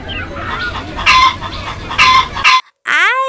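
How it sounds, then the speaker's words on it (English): A hen clucks loudly and close in a rapid series of bursts, then gives one longer rising-and-falling call after a brief gap. "H for hen"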